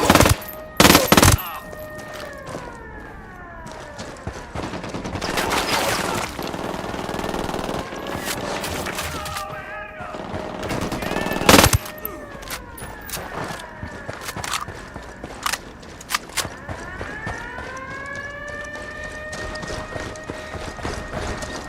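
Gunfire rattles in a Ghost Recon Wildlands firefight, with sharp shots and bursts scattered among loud game effects. Galloping hoof-like sounds and faint shouting voices run throughout.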